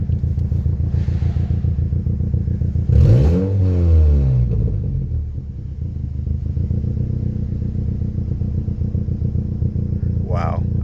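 A car engine with an exhaust leak idles with a loud, fast, puttering rasp, then revs up in a rising and falling roar before it settles back to a rough, ticking idle. Faint talk runs beneath the engine.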